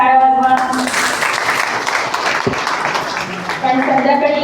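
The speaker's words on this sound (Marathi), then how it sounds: "तुमच्या सगळ्यांसाठी एकदा जोरदार टाळ्या वाजवा" Audience at a devotional discourse in Pandharpur bursts into loud applause, a dense wash of many hands clapping, bracketed by a voice and musical tones at the start and end.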